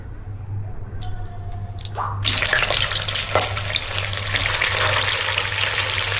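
Food frying in hot oil, a loud steady broadband sizzle that starts suddenly a couple of seconds in after a quieter stretch with faint clinks, then continues close and dense to the end.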